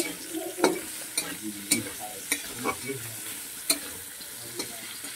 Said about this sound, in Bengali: এবার চিংড়িটা দিয়ে দিলাম, হালকা করে ভেজে নেব।